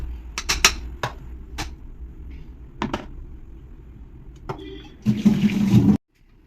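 Soaked millet is drained of water, with scattered clinks and knocks early on, then a brief close burst of pouring, trickling water before it cuts off.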